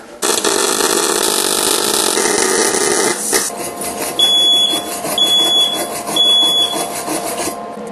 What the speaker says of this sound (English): Fire up the welder again.